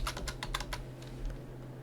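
Code for a PHP project is typed on a computer keyboard. A quick run of crisp, close keystrokes thins out into a few fainter clicks against a low background hum.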